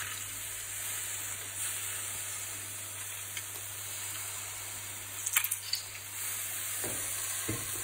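Stuffed jalapenos fry in a pan on a low flame under constant stirring, giving a soft, even sizzle with a few faint scrapes and clicks near the end, and no talk.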